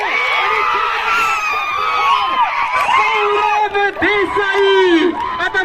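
Loud crowd at a rainy-season rubber-ball cricket final in Kasar cheers, whoops and shouts with children's voices in the mix, sustained and dense throughout, with a commentator's voice heard over the din.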